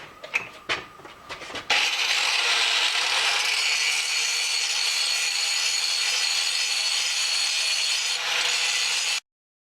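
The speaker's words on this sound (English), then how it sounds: "just grind off this flat surface here and a little bit over here and here" An angle grinder works a flat metal surface down to fresh metal, starting after a few sharp clicks and then holding a loud, steady, continuous abrasive whine for about seven seconds before cutting off abruptly.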